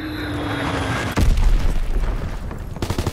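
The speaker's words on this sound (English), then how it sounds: "Enemy bomb incoming!" A video-game bomb blast lands suddenly as a heavy low boom, rumbling on for over a second before fading, with a sharper crack arriving near the end.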